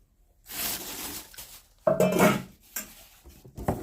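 A Karaca steel cooking pot clanks and scrapes as it is picked up and set down, in a few short, close bursts with quiet gaps between.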